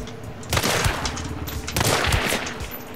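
Rapid bursts of automatic gunfire from a video game, loud and dense, arriving in two heavy volleys with a continuous rattle between them and no talking.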